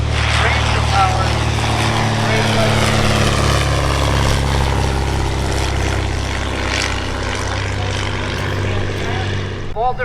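Antique propeller airplanes with different engines flying in echelon formation over Old Rhinebeck Aerodrome, a loud, steady engine drone with droning harmonics throughout, and a voice talking over the aircraft noise.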